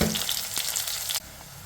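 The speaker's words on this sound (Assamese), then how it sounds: "পিঁয়াজখিনি এতিয়া অকণমান ৰঙা পৰাকৈ ফ্ৰাই কৰি লওঁ।" Onions fry in a pan for a chicken dish, a close, bright, steady sizzle with a few faint stirring scrapes, easing suddenly to a softer hiss near the end.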